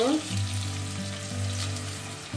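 Potatoes frying in a pan with salt and turmeric, a continuous close sizzle over a low steady hum, with no talking.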